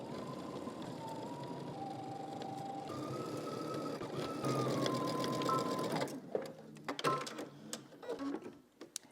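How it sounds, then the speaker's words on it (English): A sewing machine runs in a steady whirring stitch for several seconds, then breaks into shorter bursts and stops amid some clicking handling sounds. "now we're going to head to the sewing machine"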